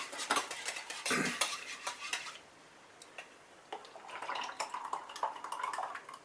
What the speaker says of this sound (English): Must have been sitting a while, so I'll have to give it a bit more of a stir